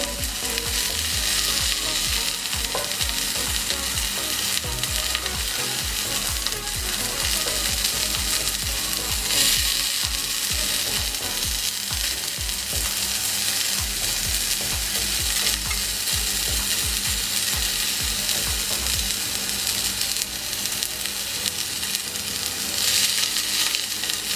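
Chicken pieces sizzle steadily and loudly in hot oil in a pot set on a griddle over a flame, a dense continuous crackle with scattered pops lasting throughout, no voices.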